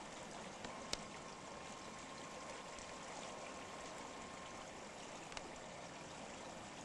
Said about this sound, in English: You can probably hear the sound of the brook